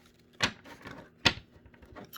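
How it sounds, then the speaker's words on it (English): A Rider-Waite tarot deck being shuffled up close, with two sharp riffling bursts separated by softer card rustles and taps, fairly quiet with no voices. "So we're going to do one more shuffle here."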